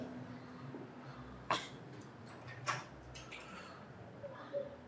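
Two sharp coughs ring out about a second apart, fairly close, followed by a softer third, over a low room murmur.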